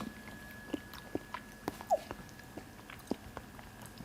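Someone eating matcha custard pudding topped with kuromitsu syrup, with close, quiet spoon taps and soft chewing sounds at irregular intervals and no talking.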